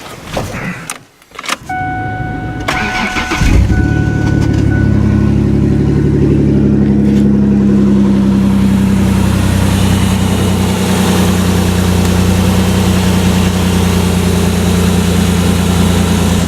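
A Ford Explorer engine, recently fitted with a new alternator, cranks briefly after some interior clicks and chimes, then catches and settles into a loud, steady idle close to the microphone.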